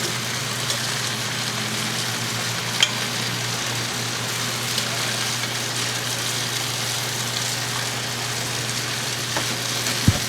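Venison sizzles steadily as it sears on a hot grill, a continuous close hiss over a low hum, with a faint tick now and then and no talking.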